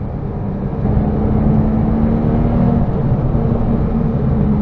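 Porsche 911 997 GT3 RS engine pulling hard under acceleration from inside the car, a steady loud drone with a rising tone throughout, no talking.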